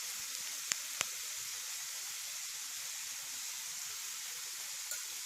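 Tomatoes sizzling in a pan for a vegetable sabzi, a steady even hiss throughout with a couple of sharp clicks near the start and no voices.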